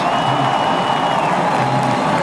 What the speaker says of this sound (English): the crowd roars